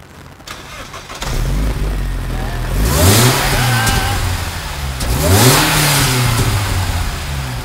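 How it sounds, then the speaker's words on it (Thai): A supercharged car engine cranks into life, then revs loudly in two strong swells with a rising and falling pitch, heard up close without talk. "สตาร์ทได้ไหมเสียงซูเปอร์ชาร์จ"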